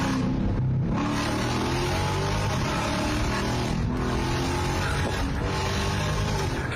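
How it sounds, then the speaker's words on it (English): A loud car engine revving hard as it passes by, a sustained roar with surging throttle and brief dips, heard alone without talk. "loud cars are annoying to everyone but the driver"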